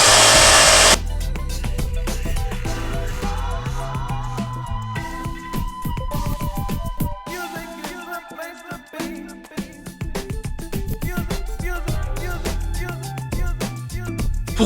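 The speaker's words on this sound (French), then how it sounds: "On allume le compresseur." An air compressor runs loud and steady for most of the stretch, a dense mechanical whir with a hum underneath and some rattling shifts in tone, starting abruptly after a short burst at the very beginning.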